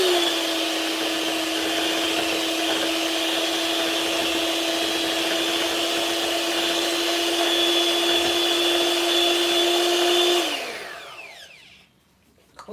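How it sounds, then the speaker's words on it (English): An electric handheld mixer whirs steadily while mixing Jesmonite, a constant motor drone with a high whine that holds for about ten seconds, then winds down and fades as it switches off. "I'm just going to get my mixer, my electric one"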